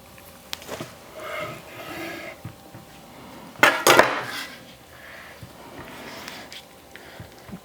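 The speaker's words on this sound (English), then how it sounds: "I'm just going to cut it and show you." A knife slices through foil-wrapped brisket, giving a brief burst of crinkling, scraping foil near the middle, with quieter clinks and handling noises around it and no talk.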